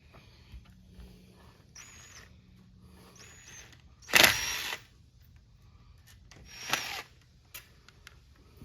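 Bolts being removed from the reed chamber plate on a Yamaha 85 hp outboard: sparse metallic clicks and a couple of louder clanks and scrapes of tools against the housing, close up over a low background hum, with no talking.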